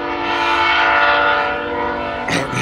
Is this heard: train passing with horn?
yes